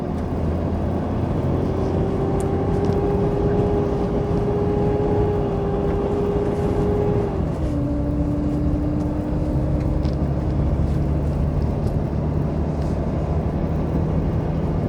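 Pickup truck engine labouring uphill while towing a gooseneck trailer with a roughly 15,000–16,000 pound load, a steady droning hum with a whining tone that drops in pitch midway as it shifts, continuous and close with road noise.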